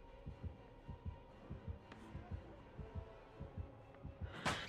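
A slow, steady heartbeat from the Dead by Daylight video game throbs in low, evenly spaced double pulses, with a brief brighter noise burst near the end.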